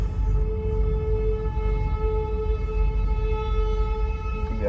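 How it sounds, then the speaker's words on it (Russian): A loud siren wails steadily and unbroken, its sustained tones holding over a heavy rumble of road noise while people drive in Ukraine. "Едем, играет сирена."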